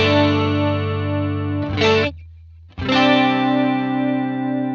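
A sustained, rich electric guitar chord through a stereo cabinet simulation rings out with a wide, spacious tone, stops briefly, then is strummed again and sustains.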